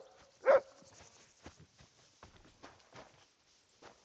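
In a video game, Kingdom Come, a single sharp dog bark stands out, followed by soft scattered footsteps and faint clopping sounds in a quiet space.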